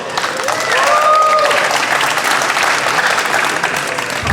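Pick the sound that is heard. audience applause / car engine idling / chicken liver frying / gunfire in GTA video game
audience applause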